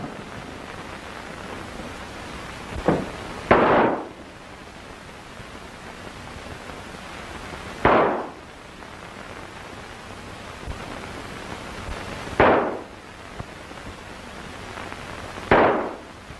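Four gunshots ring out in a western film saloon at Billy the Kid-era frontier justice, each a sharp, loud crack with a short echo, spaced several seconds apart over a hissy old-film background.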